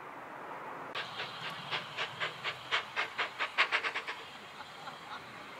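A double-headed steam train passes a level-crossing gate in a tall valley, its rapid chuffing beats building and quickening to a loud close peak before fading away, with a steady hiss underneath.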